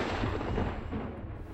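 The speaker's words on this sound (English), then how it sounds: "It uses a mixture of flammable gases to create an explosion, which in turn triggers a snowslide." A gas-fired Obelex avalanche control device detonates in snowy mountain terrain, giving a sustained, loud, broad rumbling blast that fills the whole clip and slowly fades at the end.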